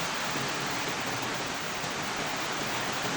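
Heavy rain pours down steadily during a flood before dawn, with high floodwater rising near houses; a dense, continuous roar of rainfall fills the whole stretch with no talking.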